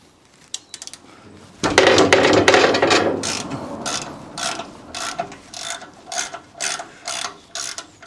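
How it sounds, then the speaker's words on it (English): A 1/2 drive ratchet clicking as it turns a bolt on a heavy duty Land Rover axle in a tight spot, a loud burst of rapid clicks followed by shorter, separated ratcheting strokes, close up with no talking. "It was really tight to get onto that one with a 1/2 drive ratchet"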